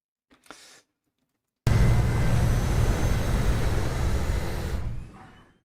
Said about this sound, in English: we've got this little part here that defines the noise of the plane taking off